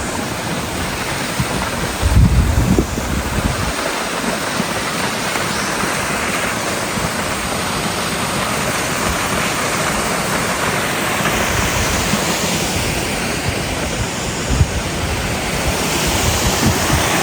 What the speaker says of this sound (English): with a pretty waterfall.